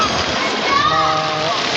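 Water from a shower feature at Newport in Pasay pours and splashes as a steady, loud hiss, with a person talking over it.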